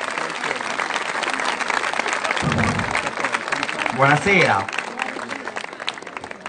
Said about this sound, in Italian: A lui facciamo un grande applauso,